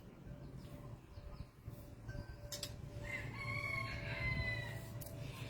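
A rooster crows, faint and a little distant, over a low steady hum, with other chickens softly clucking around it in an outdoor run.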